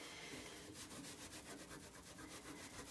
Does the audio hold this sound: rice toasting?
no